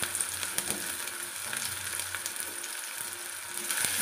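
Yellow, red and green capsicum frying in hot oil, a steady bright sizzle with occasional stirring taps, near and moderately loud, and no speech.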